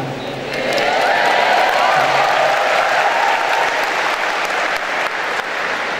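Campus audience at a stand-up comedy show at a university event clapping loudly, a dense burst of applause that swells in and holds steady for several seconds with no talking.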